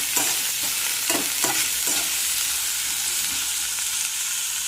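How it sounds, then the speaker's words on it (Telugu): Onion and green chillies frying in a kadai, an even hiss of hot oil with several quick stirring scrapes early on, then a steady sizzle with no voices. "కడాయిలో ఉల్లిపాయ పచ్చిమిరపకాయలు వేసుకోవాలి. చక్కగా వేయించాలండి దాన్ని."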